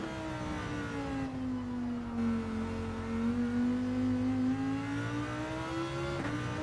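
A race car engine in Gran Turismo 7 on a circuit, a steady droning hum that sags slightly and then climbs again, with a brief rise near the end and no talking.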